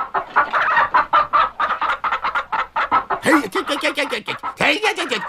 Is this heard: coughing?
no